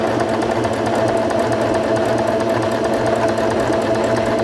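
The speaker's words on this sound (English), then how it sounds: "Step on the foot control to begin sewing again" A SINGER Fashion Mate 5560 sewing machine stitches a straight seam with a continuous, even motor hum and rapid needle chatter, close and unbroken, with no talking.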